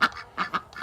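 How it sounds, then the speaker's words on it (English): Ducks quack in a farm livestock area, three or four short nasal calls in a loose, uneven rhythm, fairly close and clear with no talking. "I hear my ducks."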